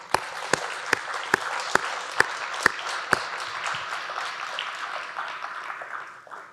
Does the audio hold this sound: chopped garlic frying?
no